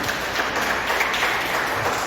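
A church congregation at a Sunday service applauds, a steady wash of many hands clapping heard up close and loud throughout.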